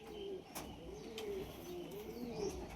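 Racing pigeons coo softly in a loft, repeated low rolling coos close by, with a couple of brief sharp clicks and faint background noise.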